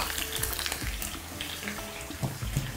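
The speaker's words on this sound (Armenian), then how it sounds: "թեթևակի տրորում ենք" Soft boiled chickpeas lightly mashed in a bowl give a steady wet, squishy rustle with scattered small clicks and dabs, close and continuous for a few seconds.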